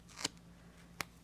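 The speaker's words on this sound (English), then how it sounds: "Oh my word, I picked up the wrong scissors." Two crisp snips of scissors, non-stick-free blades cutting during card making, spaced under a second apart against a quiet room hum.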